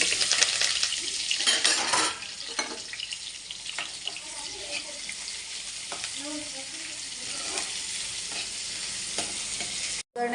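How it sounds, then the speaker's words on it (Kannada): Curry leaves, chopped green chillies and onion fry in a hot oil tempering for a potato dosa filling, a loud hiss at first settling into a steady sizzle with spoon stirring and scraping against the pan. "ಕರಿಬೇವು, ಹೆಚ್ಚಿಟ್ಕೊಂಡಿರೋ ಹಸಿಮೆಣಸಿನ್ಕಾಯಿ ಮತ್ತು ಈರುಳ್ಳಿ ಹಾಕ್ತಾಯಿದ್ದೀನಿ"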